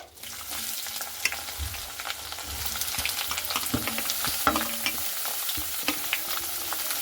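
Sliced onions stirred and fried in a pan of oil with cardamom and cinnamon, a steady low sizzle under irregular spatula scrapes and taps, close by with no voices.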